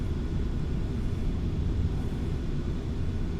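Dense, steady roar of a fixed-wing airplane climbing out just after takeoff, heard from inside with broadband engine and air noise holding an even level throughout.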